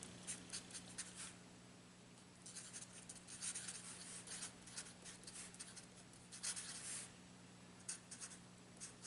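Pen or pencil writing out a calculus equation on paper, soft repeated scratching strokes in short bursts with pauses, close and quiet, no talking.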